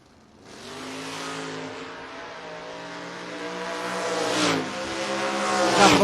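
A 1969 Camaro and a 1988 Mustang launch together at a footbrake drag race, engines rising sharply into a loud harmonic roar that climbs through the gears and stays close and strong to the end, with no talking.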